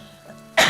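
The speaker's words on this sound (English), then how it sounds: "First cough of the stream." A single short, sharp cough bursts out close to the microphone at the very end, following a brief stretch of near silence.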